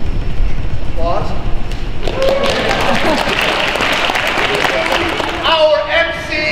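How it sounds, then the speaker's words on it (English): Applause from the audience at a community volunteer appreciation event, a steady wash of clapping under and between voices, loud and close. "Applause."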